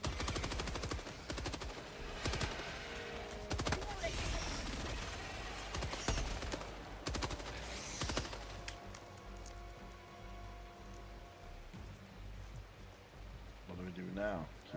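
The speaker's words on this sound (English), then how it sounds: "I'm out of ammo on that machine gun" Bursts of rapid machine gun fire in a video game rattle hard in the first half, then taper into quieter game sounds, with players talking over the action.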